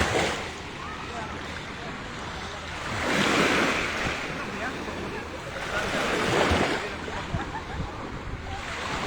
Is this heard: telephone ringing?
no